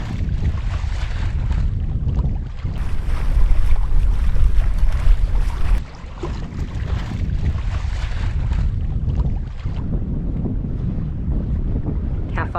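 A sailboat moves under raised sails in the wind, with steady rushing wind buffeting and water noise throughout, loud and continuous with a short lull midway.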